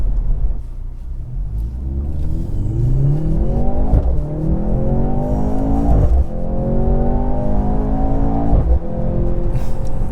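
A 2023 Mercedes-AMG C43 engine pulls hard while driving, loud rising revs climbing through gears with brief dips at each shift, a continuous near rumble inside the cabin.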